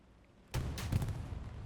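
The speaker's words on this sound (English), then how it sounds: "Panzer IV takes a shot from that cubbyhole Sherman" A tank cannon fires in Hell Let Loose, a cubbyhole Sherman shooting at a Panzer IV, giving one sharp, fairly distant boom after near silence, followed by a rumbling tail.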